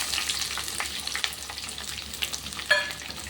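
Chopped shallots sizzle and crackle steadily in hot oil, with a brief clatter of stirring near the end, close up and without speech.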